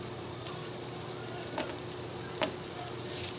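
Buttered, par-baked ciabatta rolls toast on a grill with a soft continuous sizzle and two brief sharper crackles or taps.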